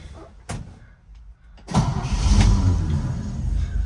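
A cold 1956 Chevrolet 3100 Cameo pickup engine cranks briefly, then catches and fires up into a steady, loud rumbling idle, close by with no talking.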